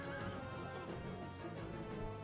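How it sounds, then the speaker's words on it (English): Cavalry horses charging in a Rome: Total War online battle, with whinnies and neighs over a dense, steady wash of hooves and battle clamour, loud and continuous throughout. "right here, these horses charged accidentally"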